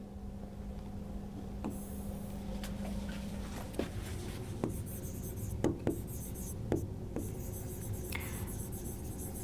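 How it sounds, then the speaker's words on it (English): Handwriting a quote, likely chalk or pen on a board in a quiet room, with faint steady scratching strokes and a few sharper taps as letters form, no speech over it. "So here I would like to write a very famous quote"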